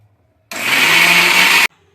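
A mixer grinder grinding onion whirs loudly at high speed for about a second, starting and stopping abruptly, against silence on either side.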